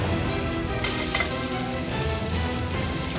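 Burger patties sizzle and fry in a pan in a busy competition kitchen, a dense continuous crackle that stays loud and close throughout, with faint clatter in the background.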